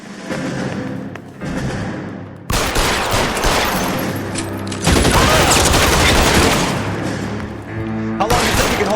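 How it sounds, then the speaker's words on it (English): Gunfire in the video game L.A. Noire rings out as loud, dense bursts of shots with heavy thuds, broken into several long stretches over a busy game soundscape. "Try shooting someone with a gun of his own."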